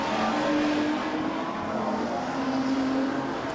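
Modified sedan race cars roar around Blue Ribbon Raceway during a national title A-main, a dense, continuous engine drone with layered revving from several cars at once, loud and steady without pause.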